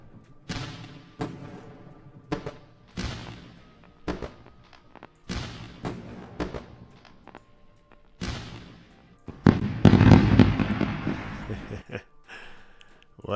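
A series of sharp booms and crackles, like fireworks going off one after another, building to a dense burst of bangs near the end.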